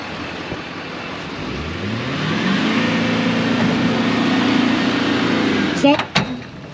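A car engine revs up and holds a steady, loud drone while a vehicle strains to pull another stuck vehicle free with a recovery rope, then drops away with a few bumps; voices talk over it.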